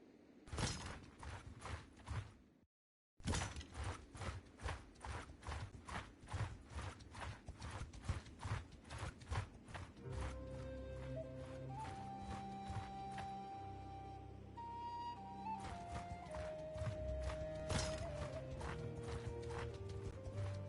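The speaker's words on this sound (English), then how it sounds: "at this point I'm going to have to get some more horses" Horses galloping in a video game: steady rhythmic hoofbeats pound throughout, briefly cutting out once, then continuing under rising tonal game music and sound effects, loud and close.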